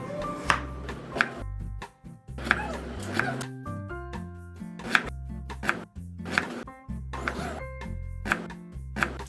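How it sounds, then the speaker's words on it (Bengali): A knife chops potatoes into thin strips rhythmically on a board in quick, crisp strokes, each followed by a faint ringing tone, repeating steadily throughout. "আলুগুলো একদম পাতলা করে চিকন করে কুচি কুচি করে কেটে নিন"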